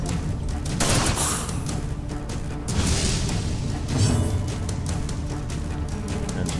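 Gunfire from the turn-based game Darkest Dungeon, a steady dense barrage of loud shots and crashes with booming low end, filling the whole stretch with a few swelling bursts around the middle.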